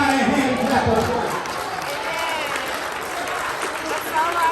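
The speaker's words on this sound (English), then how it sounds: "give God a mighty hand clap of praise" A church congregation bursts into sustained hand clapping of praise during a service, a dense, loud crowd applause with voices and shouting mixed in throughout.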